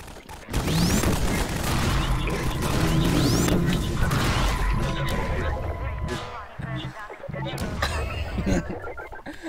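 Gunfire and crashing impacts in Garry's Mod during a chaotic deathrun match, loud continuous shots and smashes with a player talking over the action.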